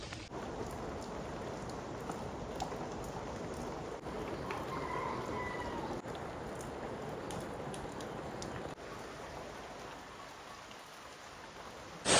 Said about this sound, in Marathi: पुन्हा एकदा पावसाने सुरुवात केली आहे जोरात आणि मुसळधार पाऊस असा सुरुवात झालेली आहे.